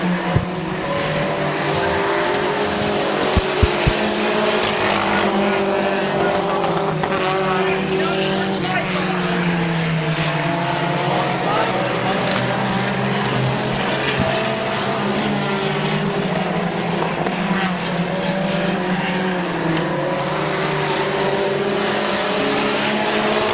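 Race cars roar around Midvale Speedway in a continuous loud engine drone whose pitch rises and falls as the pack circles, with a voice faintly audible underneath.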